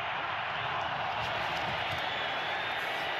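Stadium crowd at an NFL game between the Denver Broncos and Las Vegas Raiders: a dense, steady roar of cheering fans filling the whole stretch, with faint talk beneath it.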